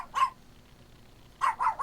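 A Chihuahua gives three short, high yaps nearby: one alone, then a quick pair after a pause, over quiet room noise.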